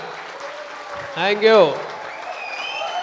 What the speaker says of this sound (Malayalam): ഒരു വലിയ കയ്യടി